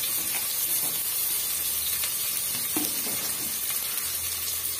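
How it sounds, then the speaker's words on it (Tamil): Sliced onions sautéing in hot oil with fennel and a bay leaf for a mutton gravy, giving a steady, loud sizzle with faint stirring scrapes throughout. "சேர்த்துட்டு நல்லா வந்து வதக்கி விட்டுருலாங்க."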